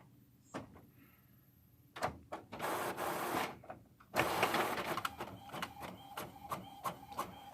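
An inkjet-style printer running through a print cycle: a quiet start, then loud whirring carriage passes and paper feed, followed by a series of rhythmic clicking and ticking mechanical pulses, close and without talk.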